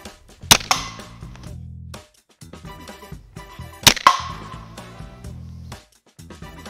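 Two sharp, loud snapping DOOM pistol-crossbow shots about three seconds apart, each with a ringing metallic clang from hitting a fire extinguisher, amid quieter clicks and mechanical handling.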